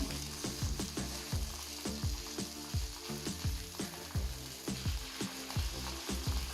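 Sardines fry on a banana leaf in a pan, a steady close sizzle broken by repeated clicking scrapes and taps as the fish are turned.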